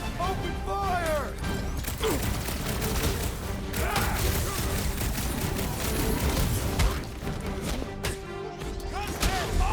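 Rapid gunfire bursts in the video game Marvel's Guardians of the Galaxy, dense and continuous through a loud battle with crashes and thuds, while characters shout over the fighting.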